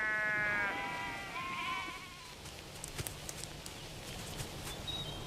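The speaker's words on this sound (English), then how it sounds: "the guanaco hunting grounds were transformed into vast sheep stations" A sheep bleats loudly and up close at the start of the recording, a wavering cry that fades out after about two seconds. Outdoor background noise and a few faint clicks follow, with no further bleating.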